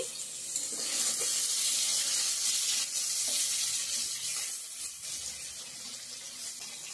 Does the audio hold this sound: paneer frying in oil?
yes